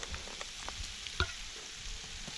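Flour stirred into sizzling sausage grease to start a roux over an open campfire, a steady close crackling fry with soft scraping stir strokes and one sharper clink.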